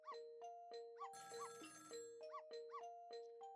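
A telephone rings in a neighbouring apartment in the Ghost Trick video game, with repeated short electronic ring tones in a steady pattern over a looping musical backdrop, fairly close and clear, with no talking.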